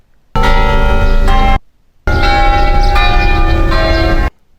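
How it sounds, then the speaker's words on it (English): Church bells ringing loudly in two sustained bursts with a short gap between them, recorded from a passing car with road noise underneath. "I also tried it on this sample, which was of some church bells as I was driving past"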